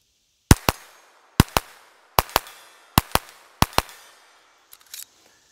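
Five pairs of sharp rimfire pistol shots crack out in a steady rhythm, loud and close, each followed by a short ringing decay, then a faint metallic clatter at the end.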